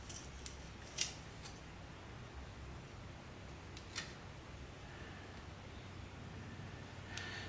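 Soft leather-hard clay being trimmed while fettling a pottery butter dish gives a few faint, brief cutting clicks spaced apart, very quiet against a low background hiss.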